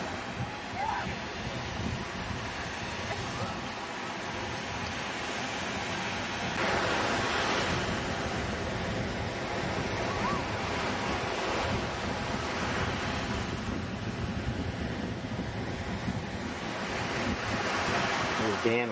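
Ocean surf washes continuously along a beach at Seacrest or Destin, Florida, a steady broad roar of breaking waves mixed with wind buffeting the microphone, with faint voices in the background.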